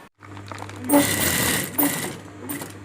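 A sewing machine stitching a strap onto a bag made from a pet food sack starts with a brief low hum, then whirs continuously up close with slight surges in speed, and no one speaks.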